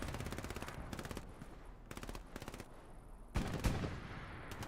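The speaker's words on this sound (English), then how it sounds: "He's able to hold them off with that PPSH." Rapid bursts of PPSh submachine gun fire in Hell Let Loose, several sustained automatic volleys in quick succession with short gaps, loud and close, joined by a heavier nearby blast toward the end.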